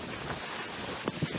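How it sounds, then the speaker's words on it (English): Wind blows steadily across an exposed cliff side above Lake Superior, a faint, even hiss with a couple of brief sharp buffets against the microphone near the end. "it's getting windy"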